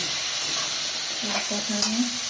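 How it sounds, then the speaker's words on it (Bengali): Fish sizzling as it fries in a pan, a close, continuous crackle with a few brief stirring clatters near the end. "আমি মাছটা ভেজে নিচ্ছি"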